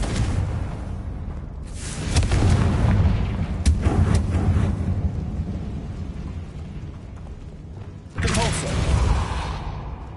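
Explosive booms from the Confringo fire spell in Hogwarts Legacy, two heavy blasts a few seconds apart, each rumbling and fading, mixed with game sounds and some voice.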